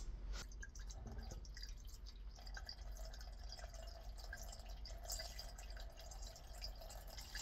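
Water trickles and drips steadily while an indoor AC condensate drain trap is refilled, a faint continuous gurgle with scattered droplet ticks throughout; quiet and close, with no talking.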